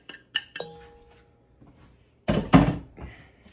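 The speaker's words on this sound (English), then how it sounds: "Just stir it in all together" Chopped groundhog meat mixture stirred in a bowl: a few sharp clinks of a utensil against the dish, a pause, then a louder scraping, rattling burst near the end, close and without speech.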